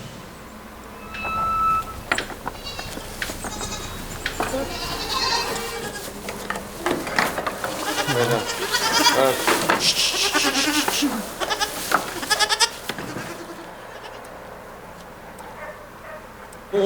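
Goats bleat repeatedly on a farm, several close, loud calls overlapping in a busy cluster, with a dog barking now and then and a brief voice at the end.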